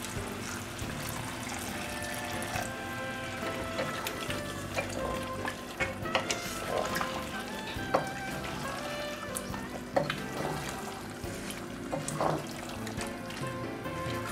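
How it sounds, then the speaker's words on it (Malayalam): Duck curry stirred in a pan with a little water added, a continuous soft sizzle under repeated scraping and clinking of the spoon, moderately close and fairly quiet, with no talking. "നന്നായിട്ട് ഇളക്കി യോജിപ്പിക്കുക."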